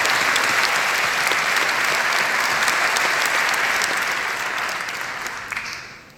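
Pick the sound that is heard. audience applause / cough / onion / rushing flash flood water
audience applause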